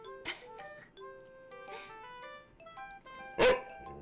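A voice imitates a dog barking with a few short, sharp yaps, the loudest near the end, against a faint background of chiming music.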